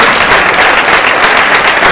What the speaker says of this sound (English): I just want to say a big round of applause to our faculty panel